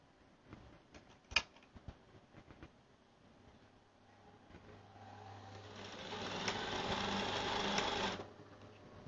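A sewing machine stitches elastic into a girl's dress, running in a loud steady whir for a few seconds after some light handling clicks and taps.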